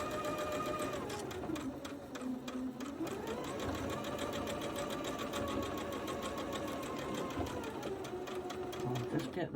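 Sewing machine running steadily while stitching quilt seams on a Japanese-style quilt, a continuous loud whirring hum with shifting motor pitch as the speed rises and falls, lasting throughout.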